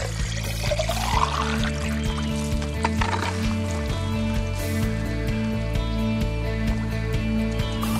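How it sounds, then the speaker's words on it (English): Cold well water pours from a full container into a jar in one steady, continuous splashing stream lasting several seconds, close and fairly loud, with no talking. "Pour it in our jar."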